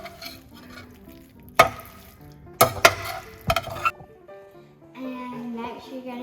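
Eggs and melting cheese stirred in a hot pan for a breakfast burrito, a utensil scraping and clanking against the pan in a few sharp knocks over a steady sizzle, close up.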